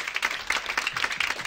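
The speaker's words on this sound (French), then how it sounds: "On peut applaudir son excellence, s'il vous plaît, très très fort" Enthusiastic applause from an audience at a film festival award ceremony, close and lively, with individual claps standing out in quick irregular bursts over a dense clapping wash.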